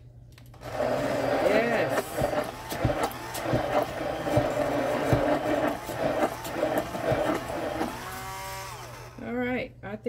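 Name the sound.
battery-powered wand frothing eggs in a multi cooker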